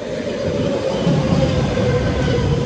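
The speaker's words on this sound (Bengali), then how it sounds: "ট্রেন আসছে আমাদের, না এটা আসছে না, অন্য লাইন" A train on an adjacent line passes through a Brussels station, giving a steady, loud, continuous rumble with a faint sustained whine running throughout, no voices over it.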